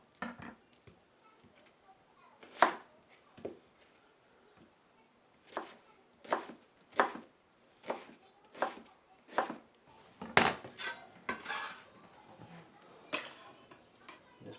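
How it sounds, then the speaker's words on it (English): A knife chops an onion on a cutting board while making crock-pot chicken noodle soup, with sharp irregular knocks in loose clusters and quiet gaps, close and fairly soft, with no talking. "Cut our onion up."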